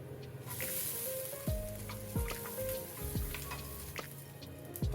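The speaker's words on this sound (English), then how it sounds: "To a spoon of oil, I'm adding some chana dal, red chili and garlic and sauteing" Oil sizzles steadily in a pan, with occasional soft scrapes and taps of a spoon stirring frying chana dal with red chili and garlic.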